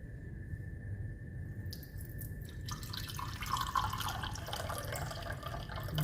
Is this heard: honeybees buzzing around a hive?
no